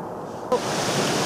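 Fast-flowing river water rushes in a loud, steady broadband wash that starts abruptly partway through and carries on without a break, with no voices.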